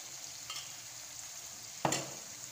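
About two tablespoons of yogurt are stirred into a pan of cooking chicken cream handi. A faint sizzle runs underneath until a brief, louder scrape and sizzle of mixing near the end.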